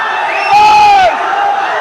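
Fans at the Vamana film trailer launch with Darshan shout and cheer as a crowd, a loud swell of whoops and raised voices rising for about half a second before settling back to a steady roar.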